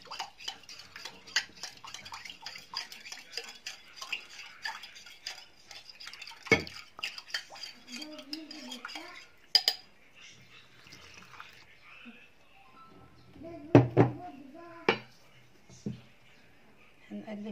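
A spoon stirs yeast, sugar and water in a bowl, giving soft, rapid clinks and swishes close by, with a few sharper knocks against the bowl and a voice speaking between them.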